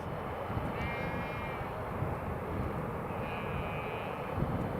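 An Air France airliner lands in a northerly crosswind, its engine noise a faint, distant steady rumble, with a couple of brief high tonal whines drifting over the background.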